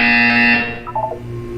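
In the game Portal 2, a loud, sustained electronic buzzer drones steadily for about half a second, then cuts off and fades, leaving a low hum with a few faint tonal blips.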